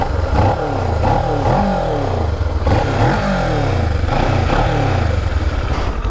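A warmed-up motorcycle engine runs loudly nearby, its revs rising and falling in repeated swells with some mechanical clatter, and no voices.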